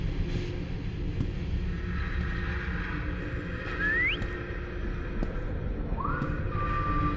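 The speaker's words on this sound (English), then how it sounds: "Yeah, whistle in my ear, you goddamn mannequin." Within the horror game Lazaret, a mannequin gives faint, eerie whistles: a short rising note, then a later sliding tone that holds steady, over a low droning ambience.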